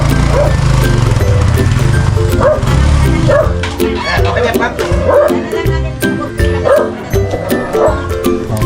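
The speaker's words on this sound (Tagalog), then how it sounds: "May mga aso" Several dogs bark and yip repeatedly near a parking spot outside a home, sharp barks coming in irregular bursts over a constant low engine rumble, with voices mixed in.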